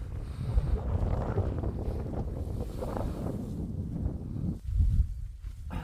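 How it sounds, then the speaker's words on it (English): Steady wind roars and buffets against the microphone outdoors on Ros Hill, Northumberland, a constant low rumble with no clear voices. "Windy."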